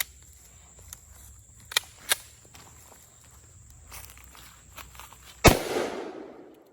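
A single loud, sharp pistol shot from an FK BRNO 7.5FK firing regular range ammunition, close by, with a short ringing decay, preceded by a few faint handling clicks in an otherwise quiet stretch.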